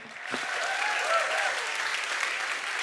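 Steady audience applause at a Berlin Science Week science slam, a dense wash of many hands that swells in after a brief quiet start and holds evenly to the end, with no talking over it.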